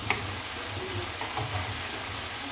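Chicken steaks sizzle and fry steadily in a hot pan, a close, continuous crackling hiss with a few brief spatters and no talking.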